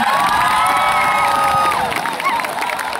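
A large outdoor crowd at a tuna festival claps and cheers loudly, with shouts and whoops rising above the applause and children's voices mixed in.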